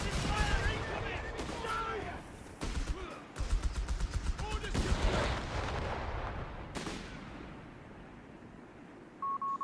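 Strafing-run gunfire in the World War II strategy game Company of Heroes 3, heard as dense, rapid bursts and heavy booms layered over battle noise, with a voice talking over it and brief electronic beeps near the end.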